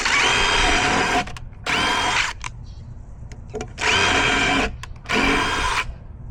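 A power drill drives screws into deck boards for a deck-bench, four loud whirring bursts of one to one and a half seconds each separated by short pauses, close by with no talking.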